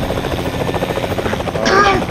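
Helicopter in the Fortnite video game, a steady rhythmic rotor chop that continues through the whole stretch and swells louder near the end, with a voice speaking underneath.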